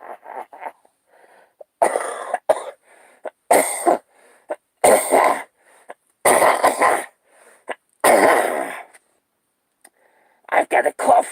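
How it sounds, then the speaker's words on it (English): A person coughs repeatedly up close, harsh, loud bursts with short gaps, some sounding like throat clearing. "I've got a cough here tonight."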